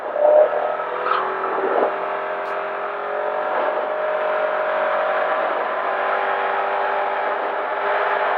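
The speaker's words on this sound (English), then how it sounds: "I got cars coming up behind me" Cars on South Dakota Highway 44 West, a steady loud broadband road and engine roar that swells slightly as vehicles come up from behind and pass.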